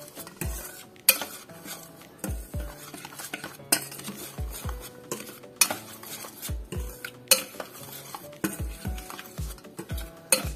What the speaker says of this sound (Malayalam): ഫസ്റ്റ് ഒരു വിസ്ക് കൊണ്ട് നന്നായിട്ട് ഒന്ന് മിക്സ് ചെയ്യണം